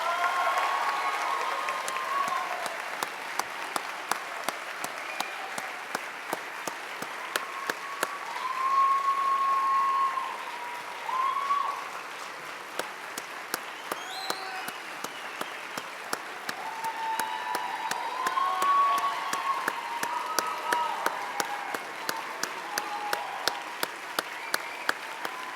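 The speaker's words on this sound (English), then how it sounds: "Ladies and gentlemen, let's give them a big round of applause once again." A graduation ceremony audience applauds for its graduates, with a sustained, dense round of clapping that fills the hall and stays steady for nearly half a minute. There are a few faint voices and whistles within it.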